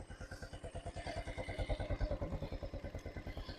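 A motorcycle engine idles steadily, a quick even chugging pulse at low volume, heard alone without voices.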